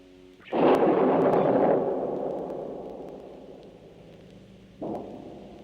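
Thunder on a stormy night from a Frankenstein Halloween soundstage record: a loud booming crack that rolls and slowly fades over several seconds, then a second, softer rumble near the end, with no voices.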